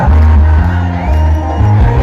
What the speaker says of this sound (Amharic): ለእመቤታችን እልልታ ጭብጨባ